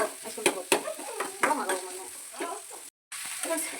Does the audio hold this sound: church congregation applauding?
no